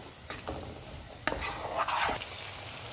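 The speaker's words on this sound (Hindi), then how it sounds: "2 मिनट के बाद इसमें मटर डाल देंगे और इनको 3-4 मिनट तक भूनेंगे।" Peas being stirred and fried in a pot for a pea pulao, with a soft sizzle and a few scraping stirs and clinks near the microphone, no talking.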